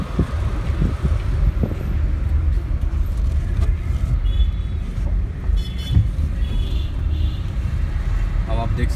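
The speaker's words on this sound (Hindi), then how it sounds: "अब आप देख सकते हैं गाड़ी चल रही है" A car being driven on the road after a change into second gear. A steady engine and road rumble is mixed with wind buffeting the microphone, and no distinct gear change stands out.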